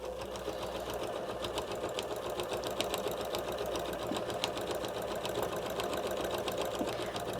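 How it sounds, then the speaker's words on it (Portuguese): A sewing machine stitches the side seams of a quilted oven mitt in a continuous, even rapid whir with fine needle ticks, close and steady throughout with no pauses. "quando eu faço as 2 linhas, aí eu já vou fazendo as costuras nas laterais"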